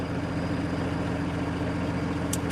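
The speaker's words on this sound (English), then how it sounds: "So yeah, that's the tractor." Farm tractor engine idling on a hilltop in Roscommon, a steady, loud low rumble with even mechanical pulsing that holds unchanged throughout, close by, with a brief faint tick near the end and no talking.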